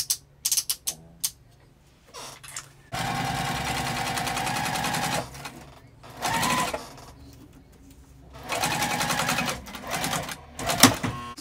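A sewing machine stitches across the vinyl of a zipper pouch in several loud, rapid mechanical bursts, each a few seconds long, with short clicks and quiet gaps between them.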